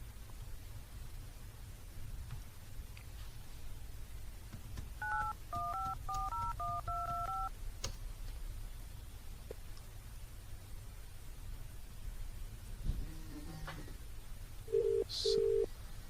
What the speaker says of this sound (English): Now we'll make a outbound call from our soft phone.